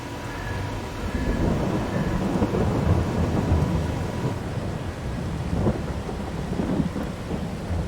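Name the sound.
rain and thunderstorm in video game Farming Simulator 22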